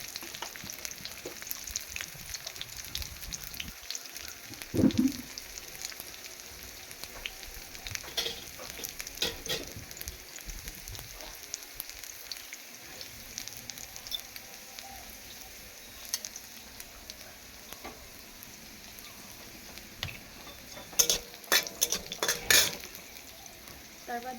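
Black cumin seeds frying in a pan while being stirred, a steady soft sizzle with scattered scrapes and clinks of a utensil against the pan, louder bursts near the end.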